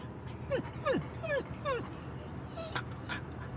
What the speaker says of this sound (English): It's just another doggy.